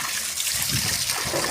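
Water pours and splashes steadily as freshly caught fish are washed outdoors, a continuous close trickling gush draining away without pause.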